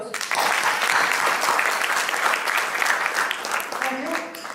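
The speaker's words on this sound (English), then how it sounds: "Can we give a big round of applause?" A big round of applause at a club officers' ceremony for departing officers, loud dense clapping rising fast and holding steady before tapering off, with faint voices near the end.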